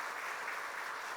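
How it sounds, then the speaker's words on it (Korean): A church congregation applauds during a Sunday service, a steady, even wash of many hands clapping together, held at a moderate, somewhat distant level with no voices over it. "한번 박수로 격려 축하하겠습니다."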